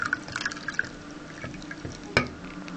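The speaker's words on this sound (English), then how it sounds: "I'm just adding the hot water to make up to 1 cup." Hot water pours into a measuring cup to top up a milk mixture for bread rolls, a close trickling fill with small drips and one brief clink.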